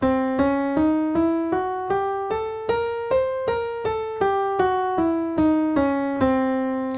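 Single piano notes of a half-whole diminished scale climb steadily in an evenly spaced run, then descend back down, each note struck clearly and alone at a moderate pace.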